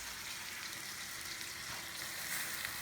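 Steady, close sizzling and frying hiss from pasta with squash sauce in a hot pan, constant and even without voices.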